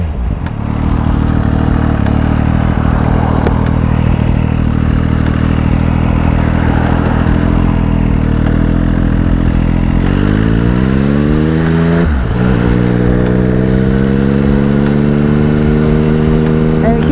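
A motorcycle rides at steady speed with loud engine drone, then the engine note climbs through several gear changes, captured close up from a GoPro helmet mount with wind noise throughout.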